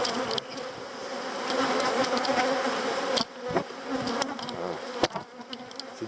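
A steady, dense hum of many agitated bees swarms around an open beehive, with occasional sharp ticks and close fly-bys breaking through; the drone thins out a little in the last few seconds.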